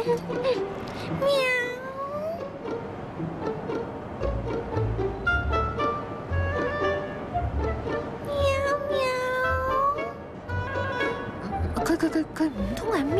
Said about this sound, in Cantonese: 佢唔通係喵緊我？